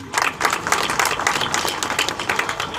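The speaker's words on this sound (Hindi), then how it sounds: "ज़ोरदार तालियां बजाएंगे" Audience at a community gathering on minority education breaking into sustained applause, dense crowd clapping that holds steady and fairly loud throughout.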